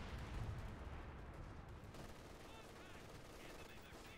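MG42 machine gun fire during a Company of Heroes 2 battle, heard as faint, distant rattling bursts mixed into a low rumble of other combat noise.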